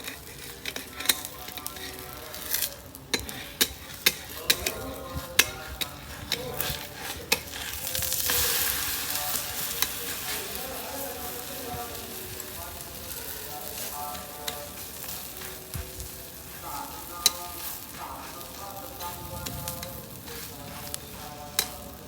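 Continuous sizzling of sweet puda frying on a very hot tawa, with scattered clicks and scrapes of handling, fairly close and moderately loud.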